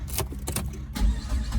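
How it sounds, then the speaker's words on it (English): A Saab 9-5 engine cranks briefly and catches, a short starter whir followed by the motor firing up close by, no talking. "it started right back up. So I'm just gonna let it idle here."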